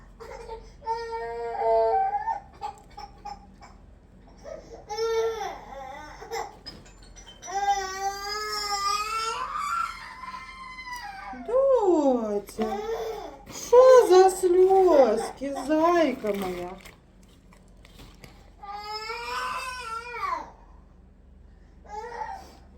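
A young girl's upset crying and whimpering, rising and falling in uneven bursts close by, with an adult's soft voice briefly in between.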